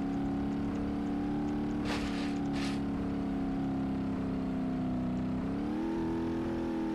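Loud, steady engine drone of a Shelby GT500 car in BeamNG Drive, holding a constant pitch with brief gear shift bursts, then the revs rising slightly near the end.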